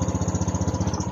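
A motorcycle engine, a Honda Beat Fi or Yamaha Mio i 125 scooter, idling just after starting following a fuel filter replacement, with a steady close, rhythmic chugging pulse throughout.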